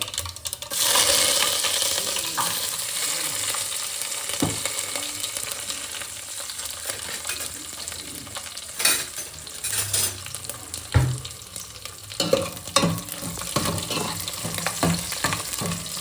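Fenugreek, curry leaves and garlic sizzle in hot oil in a pan, a loud continuous crackle broken by the clinks and scrapes of a spoon stirring against the metal.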